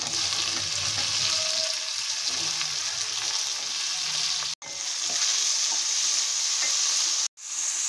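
Chopped tomato tipped into softened onions in a pan, giving a steady loud sizzle and frying hiss with stirring scrapes throughout, broken by two brief dropouts.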